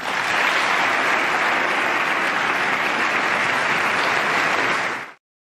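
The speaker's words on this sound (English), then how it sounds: "a lot of thunderous applause" Thunderous applause fills a chamber of Congress, a dense, loud, unbroken wash of clapping that holds steady for about five seconds before cutting off abruptly.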